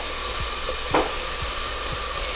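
Onions and garlic sauté in vegetable oil in a pan, giving a steady close sizzle and hiss with a few soft stirring clicks and a brief spatter near the middle.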